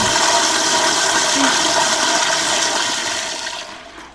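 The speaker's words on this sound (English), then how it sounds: "Automatic flush?" Automatic toilet flushing inside a video game, a loud continuous watery rush that holds steady for several seconds and then tapers away at the end, heard alone without talk.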